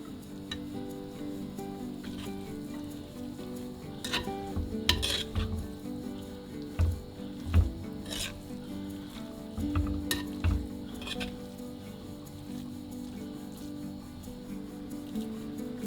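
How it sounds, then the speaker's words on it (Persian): Kebab stew frying in oil in a pot as it is stirred, with a soft continuous sizzle broken by clinks and scrapes of a spoon against the metal, close by and with no voices. "در این مرحله بعد از افزودن روغن حدود نیم ساعت تفت داده میشه."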